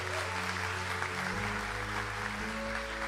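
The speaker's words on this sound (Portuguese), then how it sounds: "Vamos aplaudir o Senhor." A church congregation applauding during a Catholic Mass: a steady, soft wash of clapping from a distance, with sustained low musical tones humming underneath throughout.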